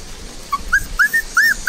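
Newborn puppies about twenty days old, plump and out in the sun, whimper in a run of short, rising whines and yips, each a fraction of a second long, fairly close and clear with no talking.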